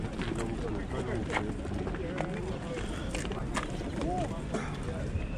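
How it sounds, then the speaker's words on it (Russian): Pigeons coo softly at a market amid a constant rustling, flapping background, with low throaty calls repeating at irregular intervals. "Тоже гоняются голуби."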